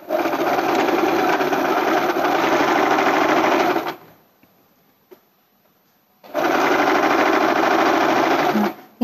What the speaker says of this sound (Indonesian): kita mulai proses menjahit